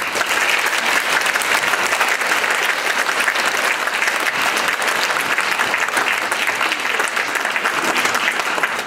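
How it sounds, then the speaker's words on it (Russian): Loud, sustained audience applause fills a concert hall at a school anniversary concert, dense steady clapping throughout with no talk over it. "Примите от всего сердца эти аплодисменты зрительного зала."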